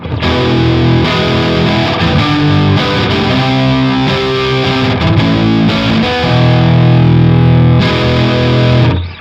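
A 1980 Peavey T-60 electric guitar played through the lead channel of a Peavey 5150 amp, heard direct from the amp: loud, saturated distorted chords and riffs ring out continuously for nine seconds, with no talking.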